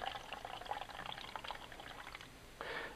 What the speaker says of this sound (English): fill up this jar, this little cup, with our water